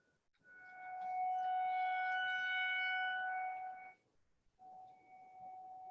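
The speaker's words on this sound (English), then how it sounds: "I think that's a tornado siren, right?" A distant tornado siren, sounding for a statewide tornado drill, wails in a long, steady tone for a few seconds, drops off briefly, then starts rising again.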